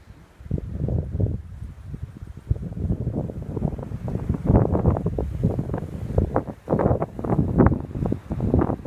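Strong gusts buffet an outdoor microphone in a windswept mountain spot, a loud low roaring rumble that surges and dips throughout with no clear speech.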